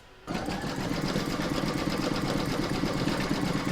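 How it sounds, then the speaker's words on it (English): An embroidery machine stitches a zigzag around the raw fabric edges of a hooped coaster, a steady rapid mechanical whirring and needle chatter that starts after a brief quiet moment and runs continuously, loud and close. "Pop your hoop back into your machine and stitch round number 6 to zigzag all of the raw edges."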